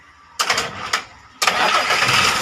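An air pump's EH700 engine is started, catching briefly, dying, then roaring to life on a second try and running loudly and steadily up close.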